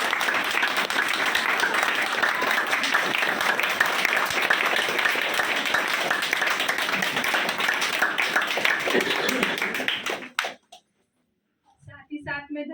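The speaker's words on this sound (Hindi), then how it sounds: "तो बाबा के लिए जोरदार तालियां बजाएं।" Loud, dense applause from an audience at an annual day celebration, sustained for about ten seconds before cutting off abruptly, followed by brief faint talk.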